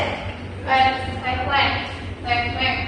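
A voices a duck's call in three short, bright bursts, a vocal imitation rather than a real bird, with steady low room noise beneath.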